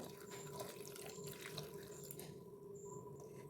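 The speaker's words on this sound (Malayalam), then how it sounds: "ഇതിലേക്ക് ഒരു ഗ്ലാസ് വെള്ളം ചേർത്ത്" A glass of water pours steadily into a pot for egg curry, several seconds of continuous close splashing rush with no voices.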